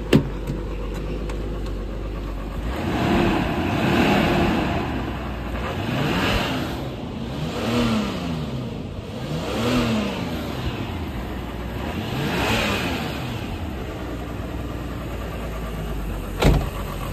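A 1998 Nissan Stagea's RB25DET engine revs repeatedly and loudly, rising and falling in several swells over a steady idle, close by, with a sharp click near the end.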